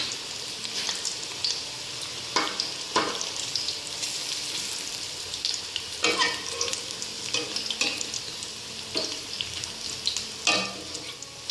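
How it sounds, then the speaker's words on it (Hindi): Besan pakoras fry in hot oil for kadhi with a steady, dense sizzle, broken by occasional clinks and stirring scrapes as they are turned in the pan. "अब हम पकौड़े फ्राई कर लेते हैं।"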